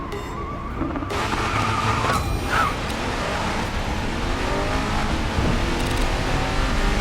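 Bugatti Chiron in the Racing Master driving game roaring through a corner, a steady loud engine drone with tire squeal and skidding as the car slides wide, continuous throughout.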